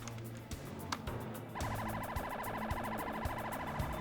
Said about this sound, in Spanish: Una patrulla de la policía y una ambulancia acuden a la escena.